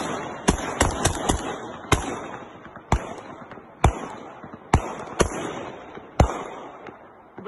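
Gunfire aimed at an attack drone: a rapid string of sharp, loud rifle shots, some in quick clusters and others spaced out, each ringing with a metallic echo over outdoor background noise.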